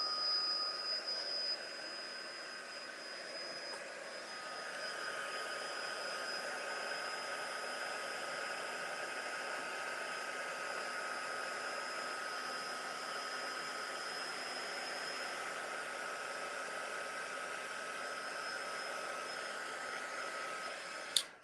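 A hair dryer blowing steadily over a painted mixed media page, a loud, even whir with a high tonal whine that runs continuously for the whole stretch before cutting off.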